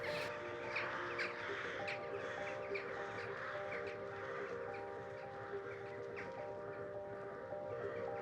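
Several crows caw repeatedly at a distance over a steady low background hum, their harsh calls overlapping outdoors.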